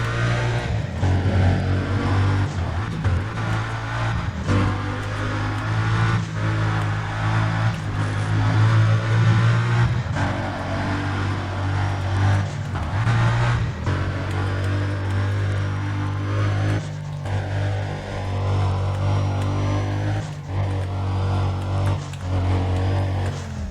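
A car in the racing video game Need for Speed: Undercover drives and revs on a ring circuit, its loud engine droning continuously with rising and falling revs and shifting pitch, alone without talk.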